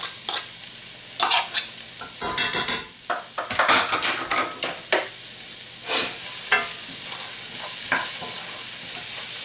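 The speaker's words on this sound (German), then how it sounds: "Das Öl ist jetzt heiß, also kommt jetzt erstmal die Zwiebel rein." Onion dropped into hot oil in a pan, a loud burst of sizzling with spatula scrapes and clatter against the pan, then a continuing steady fry.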